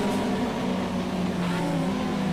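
Audi race car engine in the Project Cars video game, revving hard with a loud, steady, raspy drone and a slight pitch wobble, running alone without talk.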